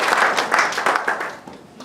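Audience applause at a mock trial event on digital sovereignty: a short, lively burst of many hands clapping, loud and close at first, then thinning out and tailing off near the end.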